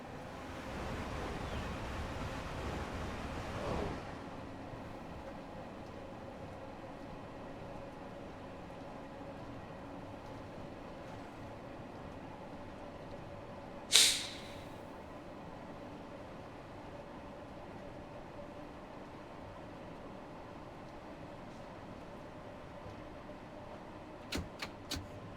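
Pendolino electric train in Train Sim World 5 on the West Coast Main Line, a steady low rumble and hiss of running that starts louder and settles into a quieter drone, with a sharp click near fourteen seconds and faint ticks at the end.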